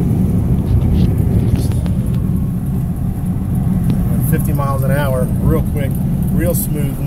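A 1971 Cadillac Eldorado cruises at 50 mph, a steady low road and engine rumble filling the cabin with tire and wind noise, while someone talks over it.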